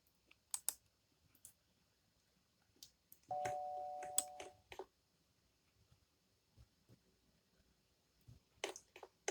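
A doorbell in the Roblox Brookhaven video game gives one electronic chime lasting about a second and a half, set among scattered soft clicks and taps in an otherwise quiet scene.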